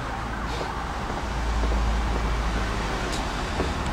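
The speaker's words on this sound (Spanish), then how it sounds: "Como pueden escuchar ahí los carros." Cars pass on a highway at night below the Mount of Olives, a constant broad roar of traffic heard from nearby with no talking.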